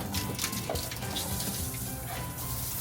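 Water runs steadily from a faucet in a Coachmen Nova 20D camper, a continuous splashing hiss at close range with a faint tonal hum underneath.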